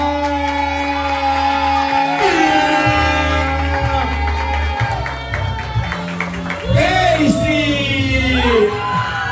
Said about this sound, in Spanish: Recibimos con un fuerte aplauso a